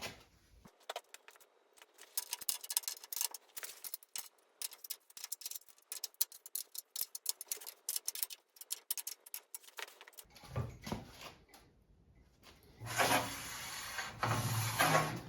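Bolts holding a Bosch router table in a Ridgid table saw being cranked down with a hand tool: quiet, irregular ticking and rubbing clicks, then louder scraping and shuffling bursts near the end, with no talk.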